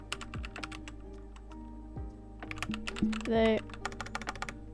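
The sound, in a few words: typing HTML code on a computer keyboard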